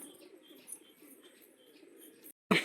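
Pigeons in a loft coo softly and continuously, with low murmuring calls and faint chirps at close range, followed by a brief silence and a sudden loud burst of noise at the end.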